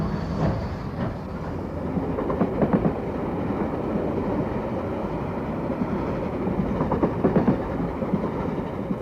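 Steam locomotive 3801, a legendary Australian express engine with an extra water tank attached, running on the rails: a steady, loud rolling rumble with repeated rhythmic clatter and bursts of louder clanking, continuous throughout, no talk.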